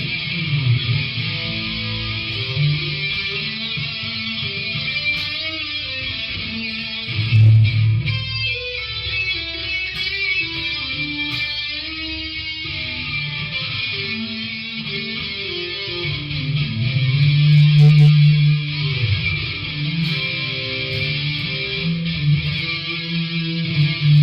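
An electric guitar through a Carvin X100B amplifier plays a sustained lead melody with delay and reverb, echoing repeats trailing each note, full and steady with no talking.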